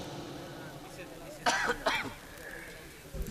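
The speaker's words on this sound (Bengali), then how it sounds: "আগরবাতি এখন আর দিও না ওইটাই আমার কাশি আসে" Coughing brought on by incense smoke indoors, two or three close, loud coughs in quick succession followed by a short throat-clearing sound near the end.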